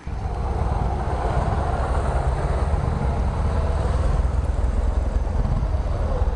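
Adventure touring motorcycles riding through a low-speed lean exercise course, giving a steady, loud engine drone with continuous rumble throughout.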